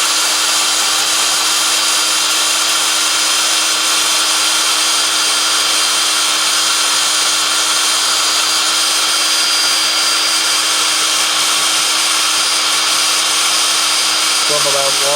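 A cylinder hone spins in a handheld power drill, giving a steady, loud whirring grind with a constant tone that runs unbroken throughout, with a slight change right at the end.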